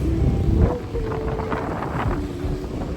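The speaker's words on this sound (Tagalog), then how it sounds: "Alamig ng hangin" Cold wind buffets a microphone outdoors, producing low rumbling gusts that are strongest near the start and then continue unevenly, with no voices present.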